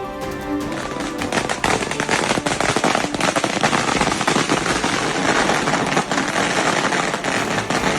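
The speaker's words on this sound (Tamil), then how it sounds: "கடலூர் அருகே 1 லட்சம் பாலா சரவெடி வெடித்து கொண்டாட்டம்" Long string of firecrackers bursting in rapid, dense crackling volleys, loud and continuous for several seconds, set off for a Diwali celebration on a street near Cuddalore.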